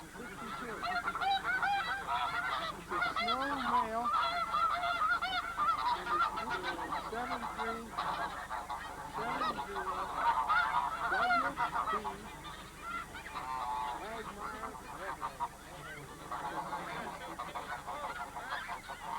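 Captured wild geese under a light net, honking repeatedly in overlapping nasal calls, a noisy cluster close by that thins briefly before resuming.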